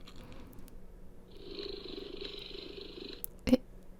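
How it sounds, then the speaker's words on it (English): A cat purr from an ASMR phone app plays as a soft, steady rumbling hum for a few seconds, ending with a brief click. "Wow, it was a cat."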